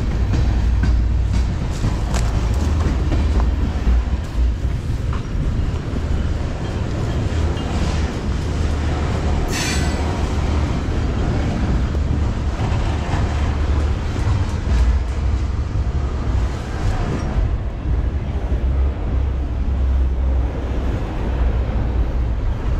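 A fast train rumbles past and gradually slows toward a stop, a loud continuous low roar with wheel clatter and brief high squeals, heard close by with no talking.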